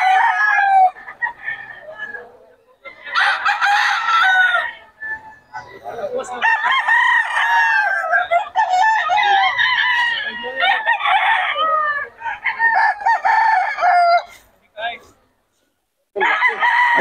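Roosters crow over and over at a busy outdoor rooster market, loud nearby calls overlapping with clucking from other fowl, with short gaps between bursts and people talking faintly in the background.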